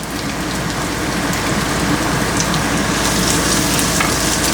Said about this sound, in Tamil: மிக்ஸ் பண்ணி கொஞ்சம் இந்த லைட் ப்ரௌனாக ஃப்ரை பண்ணி வரணும்